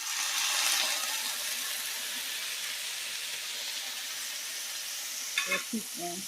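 Steady sizzling and crackling of mixed greens dropped into a hot skillet with a tablespoon of water, with a brief burst of clatter near the end.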